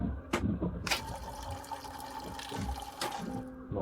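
A video game toilet flushes with a gush of rushing water and gurgling, broken by a few sharp clicks and clunks, fairly close and steady.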